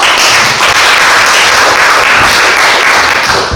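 Loud, dense applause fills a lecture hall at a theology seminar as the audience welcomes a professor, continuous and even throughout with no talk.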